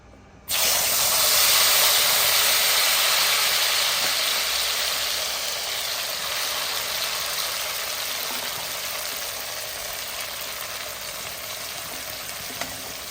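A coriander mixture is dropped into hot oil with spluttering mustard seeds, setting off a sudden loud, steady sizzle that holds and slowly eases over several seconds, close up, with no talking.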